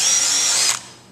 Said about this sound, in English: I like to use a countersink bit,